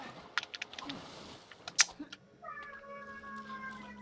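A pet cat meowing in a room, several short sharp meows and one louder cry, followed by softer tones and faint clicking with a quiet voice nearby.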